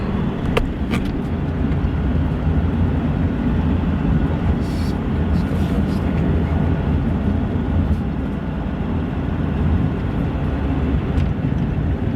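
A Type 1 Skycrane firefighting helicopter works over the Cameron Peak Fire, heard as a steady, loud broadband rotor and engine roar that holds throughout with no speech.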